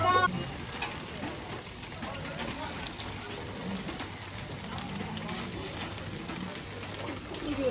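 Crackling, hissing sizzle of a snack frying crisp on a hot griddle at a street food stall, continuous and close, with people talking over it.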